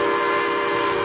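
A steady, loud train whistle tone with rich harmonics sounds continuously, with no breaks and no voices.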